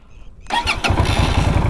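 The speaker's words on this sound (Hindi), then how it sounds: "जब मैं स्टार्ट करूंगा स्टार्ट होने के बाद एक आवाज़ आएगी" A Keeway Benda V302C motorcycle engine cranks briefly and fires up, running rough and uneven with an odd rattly, irregular chug right after starting.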